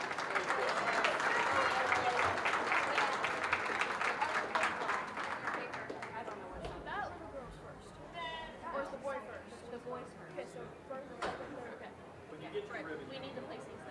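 Spectators at a county junior fair goat show break into a round of applause that is strongest at first and thins out after about six seconds into crowd chatter, with people talking throughout.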